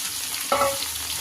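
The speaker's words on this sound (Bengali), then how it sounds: "টমেটোগুলো সব ভালো ভাজা হয়ে গেছে, কেটে রাখা নেনুয়া দিয়ে দিব।" Chopped ridge gourd hits a pan of already fried tomatoes, giving a brief burst of sizzle and a stirring scrape over a steady low frying hiss.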